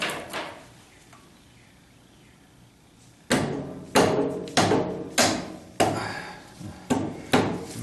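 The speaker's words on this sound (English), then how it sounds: "Amazed I got that using the hammer left-handed." Hammering on Corvette brake caliper parts during a 1976 Corvette restomod brake job: after a quiet start, a series of seven or eight sharp metallic knocks lands in a steady, roughly once-per-second rhythm, close and loud.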